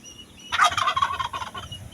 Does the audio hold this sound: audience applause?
no